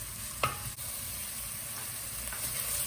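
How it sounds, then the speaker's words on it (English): Onions sizzle steadily in a hot pan, a soft continuous frying hiss with a couple of small clicks of stirring near the start. "You can hear those just sizzling away nicely"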